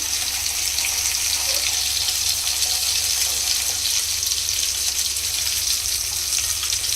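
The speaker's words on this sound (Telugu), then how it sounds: "ఇప్పుడు 5 గ్లాసులు వేరేగా మనం మంచి వాటర్ వేసుకుందాం." Water pours steadily into a pot of chicken stock for mandi biryani, a continuous close rushing splash with no pauses.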